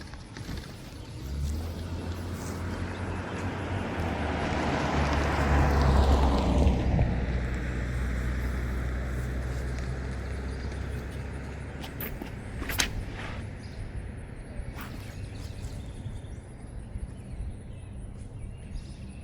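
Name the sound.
car passing by on a road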